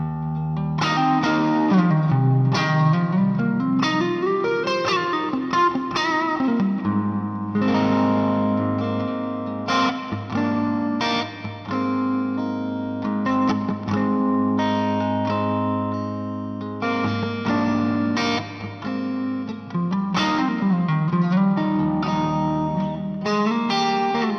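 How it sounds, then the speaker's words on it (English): Electric guitar through a Fender amp with a Thomas Blug EMT 140 plate reverb pedal on a pedalboard, playing sustained chords and melodic runs that ring out with a lush, continuous reverb wash, loud and close. "So this is Thomas Blug's EMT 140 blade reverb, which sounds fantastic."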